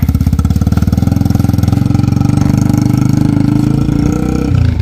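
A Yamaha TTR 125 four-stroke dirt bike engine runs close by with a rapid, throbbing idle-to-mid chug, shifting pitch slightly near the end as it revs in the woods.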